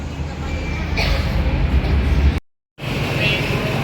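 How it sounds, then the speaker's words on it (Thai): A loud, steady rumble of a train arriving at a station rolls close by, broad and noisy, cut by a brief moment of silence before the rumble resumes. "รถไฟมาแล้วทุกคน"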